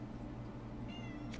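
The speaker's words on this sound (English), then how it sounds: "Yes, you are in fact a cat." A cat gives one short, clear meow close by, rising briefly over a steady low hum.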